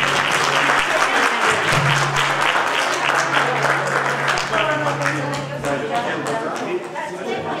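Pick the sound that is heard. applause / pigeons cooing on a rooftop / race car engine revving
applause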